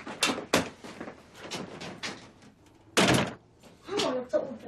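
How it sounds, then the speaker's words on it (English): A car door opens with a few sharp knocks and thunks, close and fairly loud, while a child and an adult talk and argue over it. "Come on, let me open the door."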